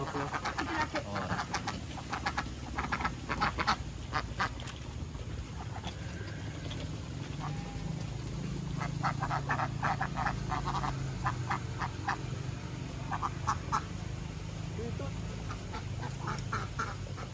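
Ducks quack in repeated bursts and clusters, fairly close and loud, over a constant outdoor background with scattered croaking sounds and occasional voices.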